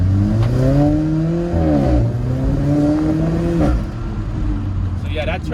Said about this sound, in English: the exhaust sounds good on this car